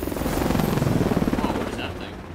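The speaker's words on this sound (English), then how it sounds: "Oh, what is that thing? Biggest helicopter" A large helicopter in the Call of Duty Advanced Warfare video game gives a loud, steady rotor roar with a fast rhythmic blade thump, with a voice talking over it.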